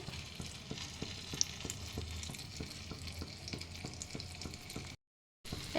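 Shami mutton kebabs fry in a little white oil with a steady crackling sizzle, broken by soft regular taps as patties go into the pan one by one, then a brief silence before the frying resumes.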